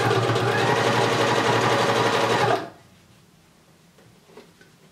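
Sewing machine zigzag stitching a bikini strap, folded fabric with elastic inside: a loud, steady motor whir with rapid needle chatter running about two and a half seconds, then stopping abruptly into quiet room tone with a faint bump.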